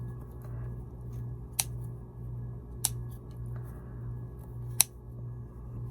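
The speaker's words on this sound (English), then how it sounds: "just clip my threads" Scissors snip sewing threads during handmade fabric pumpkin crafting, three crisp, separate clips spaced a second or more apart over a steady low background hum.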